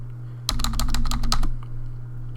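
Rapid keystrokes on a computer keyboard while a developer edits website text, a close, dense burst of clicks lasting about a second with no talk.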